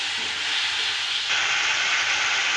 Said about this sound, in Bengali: ভালো করে কষাবো।